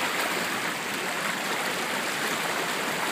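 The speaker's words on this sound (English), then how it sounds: "there's some class 2 rapids inside there" Class 2 rapids rush through a narrow river tunnel about eight feet wide, a dense, constant roar of churning water that fills the space, loud and unbroken with no voices.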